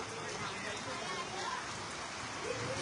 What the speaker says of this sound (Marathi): हा पाऊस.